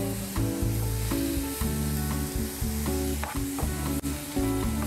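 Garlic fries in a pan with a continuous hissing sizzle, partly masked by prominent background music with steady tones and beats.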